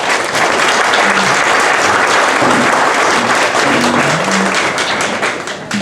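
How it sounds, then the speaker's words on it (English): An audience at a sales conference event applauds loudly and steadily, dense clapping filling the room throughout, with faint voices murmuring beneath. "let's give her a round of applause"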